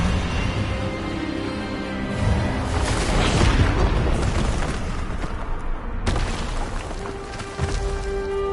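A magical spell blast in the Hogwarts Legacy video game, the Expelliarmus disarming charm, erupts as a loud, sustained rushing boom with crackling bursts, followed by a sharp cut and lingering rumble.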